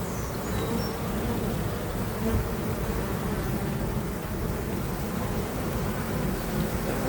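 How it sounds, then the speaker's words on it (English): A dense swarm of honeybees buzzing around their disturbed hive, a loud, continuous, even drone that fills the whole stretch with no pauses and no voices. "We've disrupted their hives, so I'm sure they're trying to figure out what in the world is going on."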